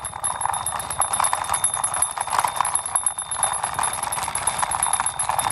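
A toy police bike's bell rings in rapid, continuous tings, bright and close, with a steady rattling underneath and no talking.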